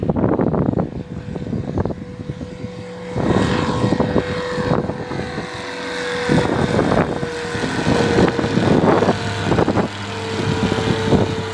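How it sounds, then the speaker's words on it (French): Ultralight (ULM) propeller aircraft climbing away from a runway near the ocean on a windy day, its engine drone droning steadily and swelling and fading over several seconds at moderate distance, with wind buffeting underneath. "Voilà l'avion qui fait son tour."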